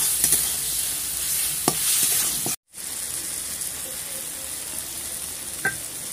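Tomatoes fry in a pan with a steady loud sizzle while a spoon stirs them in occasional scrapes, broken by a brief moment of silence midway.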